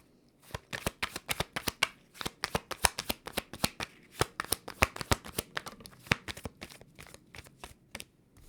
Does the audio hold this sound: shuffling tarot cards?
yes